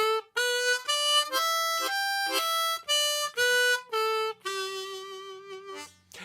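A C harmonica runs up and back down the major pentatonic scale in clear, separate sustained notes with short breaks between them, played alone and up close.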